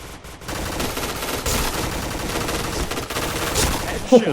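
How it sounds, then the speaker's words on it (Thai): The Pink Dragon gun in the shooter game Point Blank fires continuously, a dense unbroken burst of rapid gunfire that runs loud for several seconds. "ระยะใกล้ๆ เราก็ยิงค้างได้เลยนะครับ"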